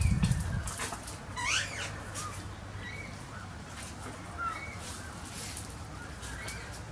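A pied butcherbird calls from a tree, a few faint, clear whistled phrases repeating at a distance over a soft outdoor hum, with no talking.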